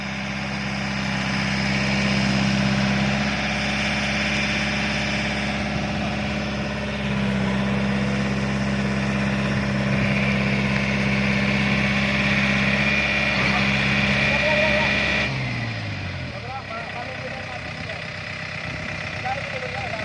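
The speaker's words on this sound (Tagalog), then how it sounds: "painiton mo ang makina, makabuelo" A Yanmar YM351A tractor engine idles steadily as it warms up in muddy ground, a continuous close, low rumble with a slight drop in level near the end, while voices talk over it.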